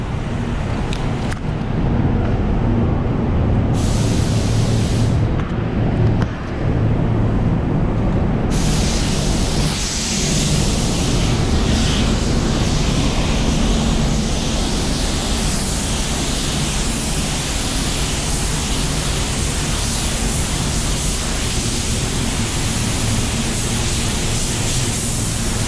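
Spray gun applying paint to a plastic car bumper in a repair shop, held at low air pressure with the fluid wide open, giving a steady, loud, unbroken hiss that runs throughout with no talk.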